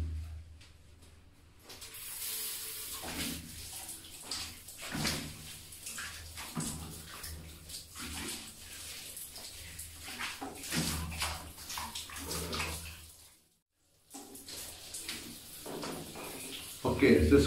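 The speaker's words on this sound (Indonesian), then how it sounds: "Kita mesti mandi dahulu." Running water splashes and pours steadily in a bathroom shower as someone bathes, close and continuous under a voice speaking throughout, with a brief pause near the end before the spray resumes.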